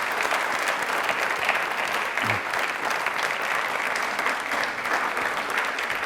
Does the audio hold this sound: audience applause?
yes